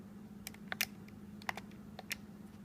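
Calculator keys are pressed in about a dozen light, irregular clicks while entering an equation. The clicks are close but faint, with no talking.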